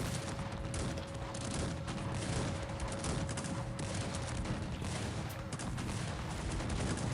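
Cannon fire from the video game Cossacks 3 booms in a dense, continuous volley, loud and close, with rapid overlapping blasts and a faint steady tone underneath.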